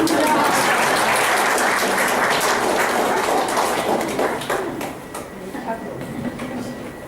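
A class audience claps at a New Year gathering, with loud, dense applause filling the room before it thins out and fades toward the end as a voice begins under it.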